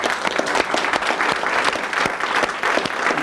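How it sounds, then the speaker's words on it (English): An audience applauding after a call to honor two people, with dense steady clapping filling the whole stretch, moderately loud and without voices. "I'd like to ask you if you wouldn't mind joining me in applause for both these amazing people."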